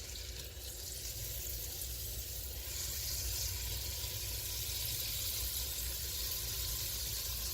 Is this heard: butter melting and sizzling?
yes